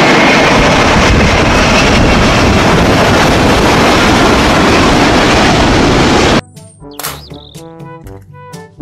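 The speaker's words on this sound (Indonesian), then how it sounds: "Pesawat terbang." A toy airplane gives off a loud, steady whooshing roar for several seconds that cuts off abruptly, followed by sparse tonal beeps and chimes.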